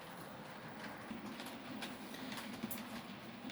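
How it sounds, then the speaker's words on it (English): A model railway train hauled by a class 47 locomotive rolling past, a soft continuous rumble with faint rhythmic clicking of wheels over rail joints, quiet and steady with no talk. "the 47's just pulling through"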